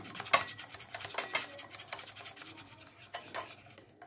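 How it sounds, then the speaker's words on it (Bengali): A batter for aloo gobi chops, with baking soda and a spoonful of hot oil added, is beaten in a bowl, giving quick, uneven scraping and tapping strokes up close, without talk. "দিয়ে এটাকে খুব ভালো করে ফেটিয়ে নেব"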